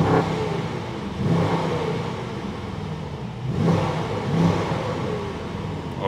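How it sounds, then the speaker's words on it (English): Mercedes-AMG S63 E Performance in Sport Plus mode revving hard, its engine note swelling loudly twice over a steady underlying drone, close and with no talking. "Now it's time to listen up to the sound of the all-new AMG S63 ePerformance."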